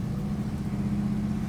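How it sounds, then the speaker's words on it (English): A 1970 Chevrolet Chevelle's exhaust holds a steady, deep, throbbing rumble at a constant idle-like pitch, close and unbroken. "Listen to the exhaust on it too."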